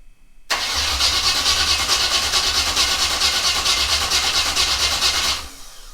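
A third-generation Camaro Z28 street/strip build with a weak-pumping fuel supply cranks and fires, catching almost at once into a loud, steady, close-up running drone that holds for about five seconds before dropping off.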